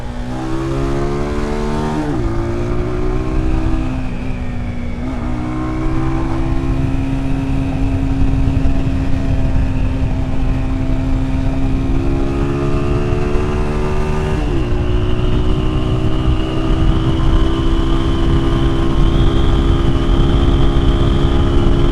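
Steady motorcycle engine droning close up while riding to Annotto Bay, St Mary, with the pitch dropping through gear shifts then climbing and holding at cruising speed.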